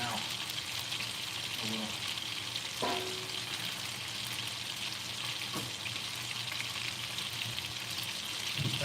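Loud, steady sizzling from a ruined stainless steel pan while bone-in chicken thighs cook, a continuous hiss with occasional pops and clinks, a person speaking briefly over it.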